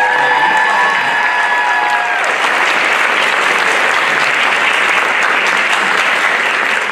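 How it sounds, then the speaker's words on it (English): Audience applause at a spring school choir concert, dense loud clapping filling the hall after a fading tone, sustained and even throughout with no talk. "Let's give her a round of applause."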